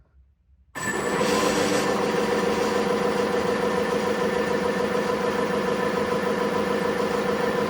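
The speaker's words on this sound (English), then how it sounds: "first, low RPM spin up and engagement" A 3D-printed Stubby Fan V4 electric ducted fan spins up at low RPM with a nylon 6 sun gear. It starts in near silence, then a steady whirring drone with mechanical vibration sets in abruptly and holds at a constant, fairly loud level.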